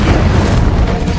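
The Incendio fire spell in Hogwarts Legacy lets out a short, heavy, booming whoosh, loud and rumbling for about a second.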